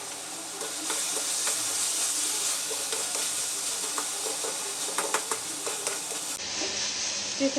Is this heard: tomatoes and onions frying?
yes